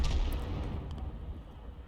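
SU-8 self-propelled artillery gun in World of Tanks fires a shell, a single muffled low boom at the start that rumbles and fades over a second or two.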